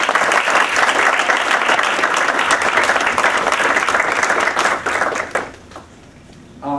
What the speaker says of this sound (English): I want to give a big round of applause to Lori Deck, to Jonathan Crawford, and to our intern Karen